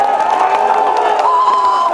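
A crowd cheering and shouting in a steady, dense roar that holds for the whole two seconds.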